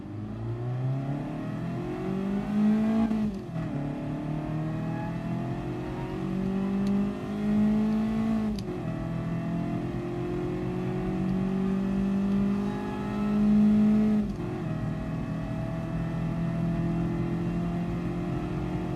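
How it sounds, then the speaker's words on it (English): A Honda Beat racing engine in Gran Turismo Sport revs high at Red Bull Ring, climbing in pitch through several gear shifts, dropping and rising again, continuous and loud with no talking. "Well, it does rev pretty high."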